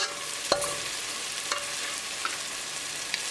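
Tomatoes cook in a pan with a continuous, even frying sizzle, marked by a few soft stirring clicks and taps.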